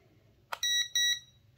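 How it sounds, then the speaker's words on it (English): An Eachine E520S drone gives two short, high electronic beeps while pairing with its controller, clear against a quiet background hum. "We hear the two beeps, so it's paired."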